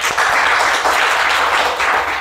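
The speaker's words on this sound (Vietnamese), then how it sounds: "Vỗ tay một cái coi nào." Studio audience on a Vietnamese dating show breaking into a loud, sustained burst of applause, dense and steady with no voices on top.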